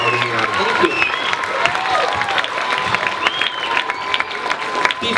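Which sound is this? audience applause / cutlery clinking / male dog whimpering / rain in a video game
audience applause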